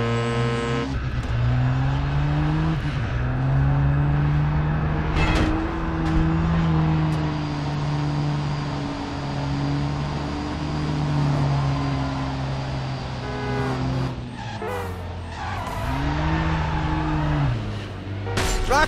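A Vandoorn Atlus 3.8L car in the video game Driver San Francisco drives and corners with a loud, sustained engine drone that rises and falls in pitch, with brief tire squeals and no talking.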